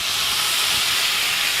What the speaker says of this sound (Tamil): தண்ணி இவ்வளோ எடுத்துட்டு நம்ம தெளிச்சு விடணும்